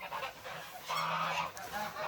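Farm geese shut in a pen honk in a continuous overlapping chorus, moderately close with a louder burst midway and a soft background hiss.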